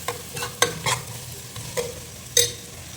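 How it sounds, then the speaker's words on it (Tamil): Ground masala for a village fish curry fries in a pan under a low sizzle while a spoon stirs, with several sharp scrapes and clinks spaced through the clip and no voices. "ஸோ இது கொஞ்சம் நல்லா இதாகட்டும், ஃப்ரை ஆகட்டும்."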